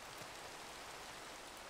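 Steady rain in the video game Minecraft, a soft even hiss that holds level through the short stretch with no other sounds on top.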